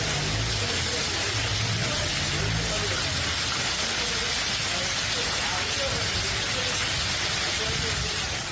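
Heavy rain pours down during a downpour at Gorakh Hill Station, a hill resort in Sindh, as a steady, dense hiss of falling drops that stays loud and continuous throughout with no voices.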